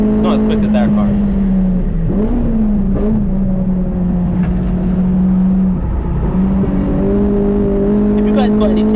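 A 2000s Honda Civic EP3 Type R runs at full throttle around the Castle Combe circuit, its engine droning loud and close with a steady high-pitched tone that dips briefly at gear changes and then climbs again.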